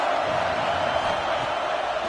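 A stadium crowd at a Wisconsin football game gives off a steady, dense roar of cheering and shouting that stays loud and unbroken throughout.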